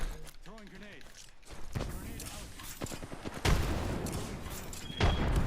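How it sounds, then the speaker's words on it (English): A grenade thrown and blowing up in the video game Apex Legends, with booming blasts and gunfire bursts rising over the clip, while players talk. "Throwing grenade."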